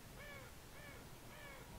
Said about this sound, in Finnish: Se on vaan lintuja ja pelottava ambienssi ja joku random hirviö.